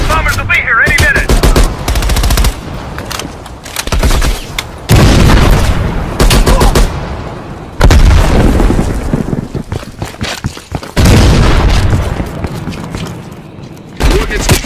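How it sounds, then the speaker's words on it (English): Bombing strike explosions pound in heavy, loud bursts separated by brief lulls, with dense crackling like rapid gunfire between the booms and voices partly mixed in. "Bombing strike imminent. Well, the bombers will be here any minute!"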